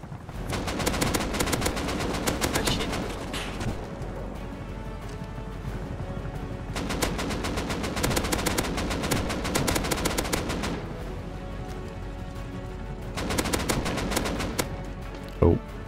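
Rapid bursts of AK rifle fire in the survival game Rust come in three loud clusters, with steady game ambience and scattered shots between them.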